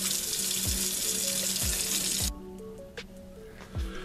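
Tap water runs steadily into a sink while tumbled rocks are rinsed, a loud full stream that cuts off abruptly midway, leaving quieter drips and a few soft clinks with no talking.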